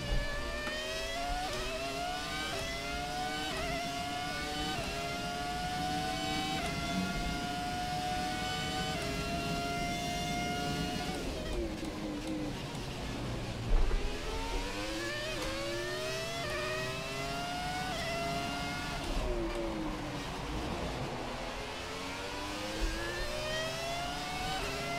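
A Ferrari Formula 1 engine in a racing video game screams continuously through upshifts, its pitch climbing, dropping and rising again at the Japan Grand Prix, loud and unbroken with no talking.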